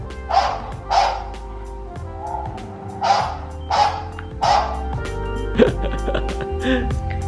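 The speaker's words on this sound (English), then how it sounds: "or a dog barking sound." A recorded dog barks repeatedly through a Samsung SmartCam SNH-V6410PN security camera speaker, sharp woofs spaced about a second apart, fairly loud and close, followed by a few softer yips at the end.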